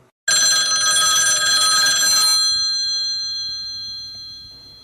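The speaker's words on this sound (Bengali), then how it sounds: "হঠাৎ ফোনটা বেজে উঠল।" A telephone bell rings loudly and continuously for about two seconds as a sound effect in a Bengali detective audio story, then fades out into near silence.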